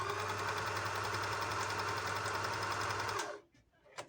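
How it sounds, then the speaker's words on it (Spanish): A sewing machine run by a generic foot pedal stitches in a steady, loud mechanical whir with a low hum for about three seconds, then stops abruptly, leaving near silence broken by a faint click. "Bueno, está cosiendo bien."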